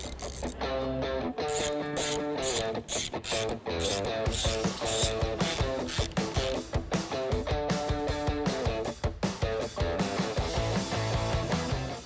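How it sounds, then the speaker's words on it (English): A ratchet with a T30 Torx bit clicks steadily and loudly, close up, as the screws come out of a 1987-2006 Jeep Wrangler YJ/TJ tail light, a continuous rapid ratcheting with short pauses and no talking. "we're going to remove the 3 screws inside of here that hold this on. We're going to use a T30 Torx"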